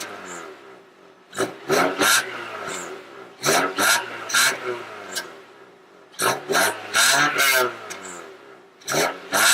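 A car engine with a newly installed test pipe, not yet fully warmed up, revs up to about 4,500 RPM. Sharp throttle blips come in three quick clusters with a rough idle between them, close to the mic.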